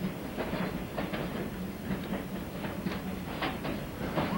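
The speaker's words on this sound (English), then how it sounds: "did you ever see a train go right under the roller coaster before?" A passenger train rolls along the track between Luzerne and Noxen, Pennsylvania, with a steady rumble and rhythmic clickety-clack of wheels over rail joints, heard from on board and continuing throughout.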